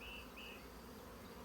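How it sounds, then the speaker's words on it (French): An Asian hornet buzzes close by near beehives, a faint high whine rising briefly twice over low outdoor hum. "Mister Frelon asiatique."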